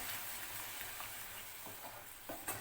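Tomato paste sautéing in a pan for egg gravy, giving a quiet, even sizzle with a few soft stirring scrapes near the end, no talking.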